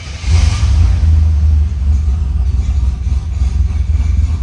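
A fuel-injected 1989 Pontiac Turbo Trans Am engine catches and settles into a strong, steady low rumble close by, started without touching the accelerator, with no talking over it.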